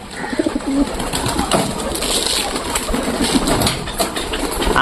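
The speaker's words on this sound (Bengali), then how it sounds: "তো বন্ধুরা কবুতরগুলোকে শস্য দিচ্ছে দেখতে পাচ্ছ তাহলে তিনটে কবুতর নামছে" Pigeons coo softly and repeatedly as they come down to feed on scattered grain, with light rustling and occasional wing sounds against a steady outdoor background.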